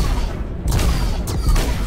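Spaceship weapons firing in the space combat game Star Citizen, with loud booming bursts at intervals over a dense rumbling background.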